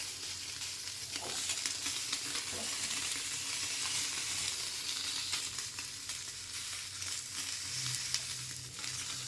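Kulipitha cakes fry on a banana leaf over low heat under a cover, making a soft, continuous sizzle with light crackling throughout and no voices.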